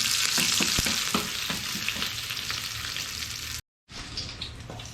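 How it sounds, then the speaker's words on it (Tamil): Curry leaves, two dried red chillies and crushed garlic frying in a pan, giving a steady loud sizzle with a few stirring knocks, close by, cutting out briefly near the end. "இது நல்லா வறுக்கணும்."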